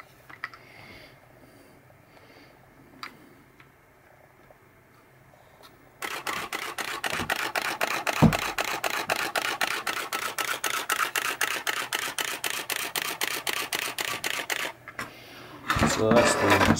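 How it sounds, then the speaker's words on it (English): Canon 6D DSLR shutter firing in a rapid continuous burst of crisp, evenly spaced mechanical clicks close to the microphone, following a quiet lead-in with a few faint handling sounds. "we are going to listen to the shutter sound of a Canon 6D"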